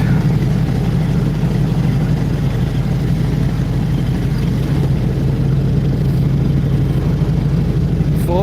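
A flivver-style car engine labours at full throttle climbing a hill, a steady close drone of low rumble that holds constant throughout without pauses or talk.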